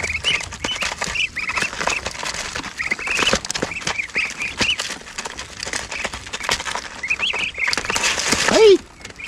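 Poultry bustling over scattered feed on a backyard farm, with steady clucking, squawks and pecking close by and a burst of wing flapping near the end.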